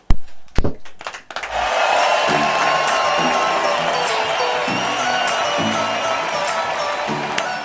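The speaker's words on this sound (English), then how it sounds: "And this applause is for you." Studio audience on a Children's Day programme breaking into applause and cheering after a few sharp claps, a dense sustained wash of clapping and whoops with faint rhythmic music beneath.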